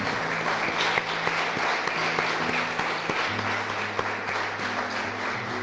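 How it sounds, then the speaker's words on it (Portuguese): A church congregation applauds at the close of a Portuguese-language service, a dense, steady wash of clapping from many hands with a low musical drone underneath. "Vamos aplaudir Jesus, para a glória de Deus."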